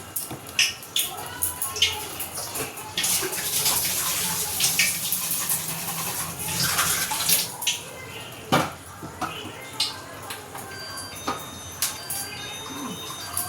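Water runs from a tap into a water bottle in a domestic setting, a continuous hissing gush broken by clinks and knocks, with a voice talking over it.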